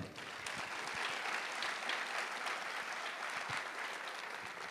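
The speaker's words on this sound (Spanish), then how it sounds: "quiero por favor que le den un aplauso a Santiago Amador." An audience applauds a guest at a Spanish-language talk event, giving steady, dense clapping throughout that is fairly quiet and slightly distant.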